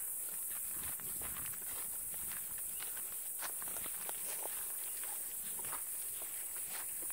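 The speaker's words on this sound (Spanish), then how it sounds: "vamos a seguir caminando poco a poco" Steady footsteps of boots crunching on the ground outdoors in strong sun, close by, with a constant background hiss and no talking.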